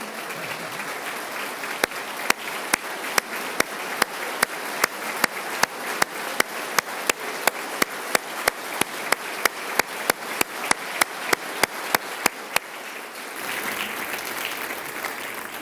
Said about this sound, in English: Jackson, please stand so we can give you a round of applause.